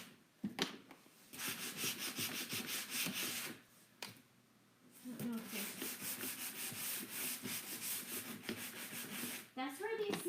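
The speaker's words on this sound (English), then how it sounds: "That's where these sanding pads come in great" Folding sanding pads scrub the corner of a wooden hope chest. Steady, close abrasive rubbing comes in repeated back-and-forth strokes, with a few brief pauses.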